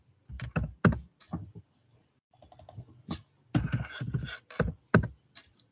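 Install commands being typed into a computer terminal: loud, close keystrokes in uneven bursts with brief gaps, a few heavier thunks among them.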